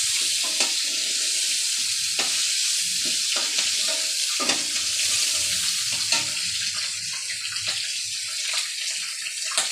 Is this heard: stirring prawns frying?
yes